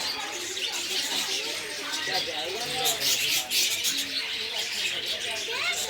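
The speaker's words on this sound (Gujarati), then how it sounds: "પક્ષી ઘર છે જો, કેવી કલરે કલરની ચકલીઓ જોવા મળે છે." Lots of small colourful birds chirp and twitter continuously, close and lively, with soft cooing mixed in, filling the air of an enclosed aviary at Indroda Park, Gandhinagar.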